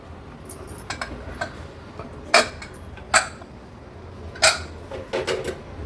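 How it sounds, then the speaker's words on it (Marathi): A pressure cooker lid is opened after cooking chole, giving a few sharp metallic clinks and clatters among quiet kitchen handling sounds. "आपण झाकण उघडून बघूया."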